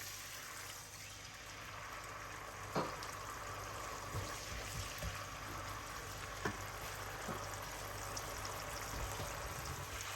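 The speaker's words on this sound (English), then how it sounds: "I'm going to add another half a cup of water here." Water poured into a simmering Bangladeshi fish kofta curry with diced tomato, giving a steady wash of sizzling and trickling, with a few soft clinks, close and fairly quiet throughout.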